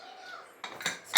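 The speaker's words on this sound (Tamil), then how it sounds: "ஸ்டீமர் இறங்கிடுச்சு." A steamer pot is lifted off a home stove after cooking chicken kulambu, giving a few close metallic clanks and clatters that grow louder toward the end over a low kitchen hiss.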